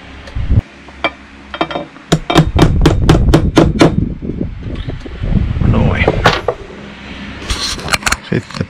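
A hammer taps a metal punch to mark a drilling spot, about seven quick, sharp, close strikes in a tight run, surrounded by handling clatter and small knocks.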